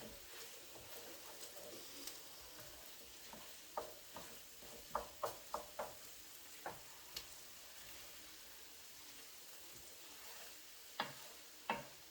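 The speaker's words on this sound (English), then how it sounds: "You want to cook these onions until they're translucent." Onions frying in a pan for French onion soup, a faint steady sizzle with scattered soft clicks and taps of stirring, quiet and close, no talking.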